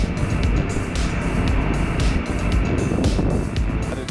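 A motorcycle rolls slowly along on the clutch, its engine giving a steady, close, loud drone with a continuous low rumble and no pauses.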